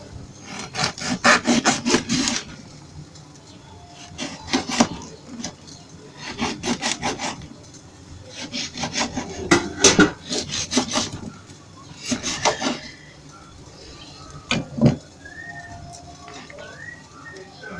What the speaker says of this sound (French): je les coupe en morceaux avec sa pulpe, ses grains